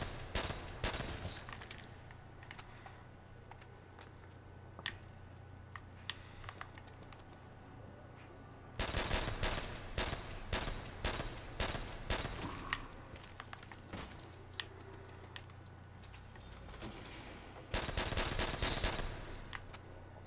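Bursts of M1 carbine fire in Call of Duty: World at War Zombies on the Nacht der Untoten map, with rapid clustered shots in two loud volleys and scattered single cracks over a steady low game hum.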